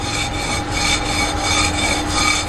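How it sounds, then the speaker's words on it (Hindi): A hard cow dung plaster surface, in a spot without salt, is scraped in a steady, loud rasping that runs continuously with slight rhythmic swells, with no voices. "जहाँ पे नमक नहीं है वहाँ पे अगर इसको खुरचेंगे ना तो वहाँ पे ये खुरचा जाएगा"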